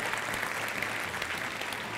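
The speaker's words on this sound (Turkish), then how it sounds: "buraya alkışlarımızla davet ediyoruz" Audience applause welcoming a young entrepreneur award winner to the stage at an awards ceremony, a steady dense clapping from a sizable crowd, moderately distant, with no break across the moment.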